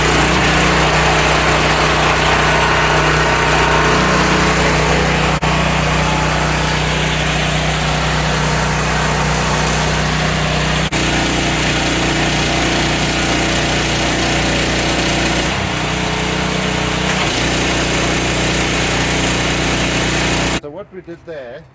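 A V-TUF petrol pressure washer engine started and running at minimal pressure, a steady loud mechanical drone with shifting load that continues for about twenty seconds before cutting off at the end.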